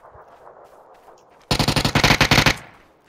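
Rapid automatic gunfire from a video game, a loud close burst of about a dozen evenly spaced shots lasting roughly a second, following quieter game background sound.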